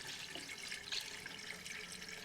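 Water pours steadily into a World War II jeep, a continuous hissing splash with no talk, close and moderately loud throughout.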